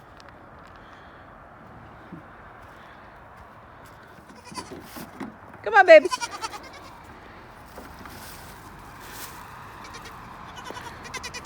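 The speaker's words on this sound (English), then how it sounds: "Baby goats." Baby goats bleat in a brief burst of high, wavering cries near the middle, with someone speaking softly before them and quiet rustling around.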